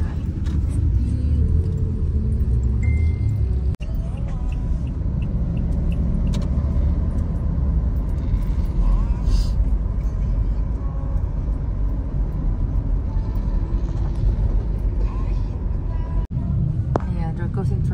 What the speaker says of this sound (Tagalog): Yan, mga jeep.